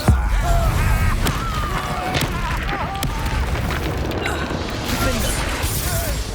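The Reducto blasting spell in Hogwarts Legacy opens with a sharp booming impact, followed by clattering, mechanical crashes and battle rumble, with voices sounding over the din.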